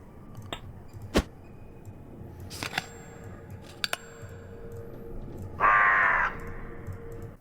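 Crow in the puzzle game Rusty Lake caws once in a rough, harsh burst near the end, preceded by scattered sharp clicks and snips against a quiet background.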